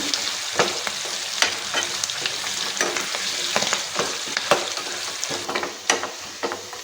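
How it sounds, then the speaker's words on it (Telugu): Oil sizzles steadily in a pan as a tempering of spices fries for red lentil and greens dal, while a utensil scrapes and stirs in repeated sharp strokes, close up. "ఇది పచ్చివాసన పోయిందాకా కొంచెం తాలింపు వేగాలి."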